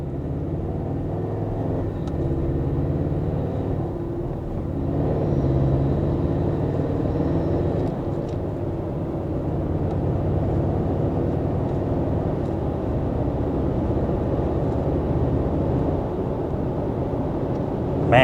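A 2024 Toyota Tacoma accelerates in Super Sport mode, its engine and road rumble holding steady and full from inside the cabin across the whole stretch.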